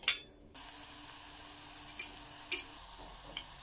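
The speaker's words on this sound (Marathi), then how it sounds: "राहिलेले अजून थोडेसे कोफ्ते आहेत ते फ्राय करून घेऊया" Spinach kofta balls fry in oil with a low, steady sizzle, punctuated by a few brief clinks of a utensil against the pan.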